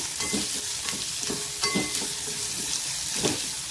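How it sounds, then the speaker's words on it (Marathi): A steady, close sizzle of onions frying in a hot pan, crackling continuously with occasional soft stirring scrapes. "कांदा छान आपल्याला भाजून घ्यायचा आहे सोनेरी रंगावर"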